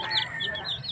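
Ayam Cemani, an all-black chicken breed, gives soft clucks and high chirping calls close by over about a second, with faint background noise.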